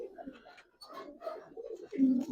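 Giribaz pigeons with Hurricane colouring coo in short, soft, throaty phrases close by, with a faint murmur of background noise.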